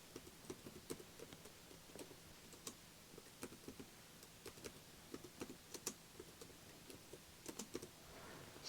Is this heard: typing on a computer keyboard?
yes